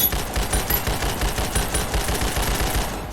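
Rapid automatic rifle fire from Ragdoll Universe, a continuous burst of evenly spaced loud shots running throughout without pause.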